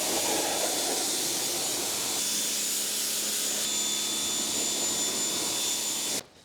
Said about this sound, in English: I'm gonna rinse them. I like to pull the hose out all the way.